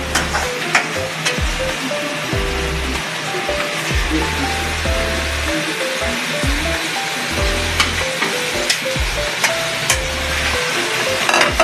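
Beef drops into a hot pot for Filipino nilagang baka stew, bringing steady sizzling and bubbling with scattered clinks and knocks of utensils against the pot, close and continuous.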